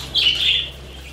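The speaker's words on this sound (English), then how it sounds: "This also is a type of noise that is made by budgie when its personal space is invaded" A budgerigar gives a short, harsh scolding chirp, a single bright call lasting about half a second, close and fairly loud over a faint low hum.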